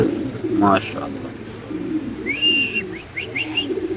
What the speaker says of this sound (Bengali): এখানে আছে একটা ইন্দোনেশিয়ান মাদি কবুতর আপনি দেখতে পাচ্ছেন